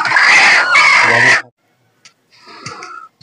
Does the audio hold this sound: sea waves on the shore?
no